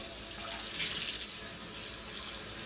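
A tap runs steadily over a pan as it is rinsed in a sink, a close, bright rush of water that swells slightly midway and keeps going to the end.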